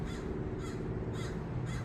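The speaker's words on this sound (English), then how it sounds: "there's a crow up there" Crow cawing near a parked campervan, several harsh caws repeating in a steady rhythm over a constant low background hum, fairly clear and moderately loud.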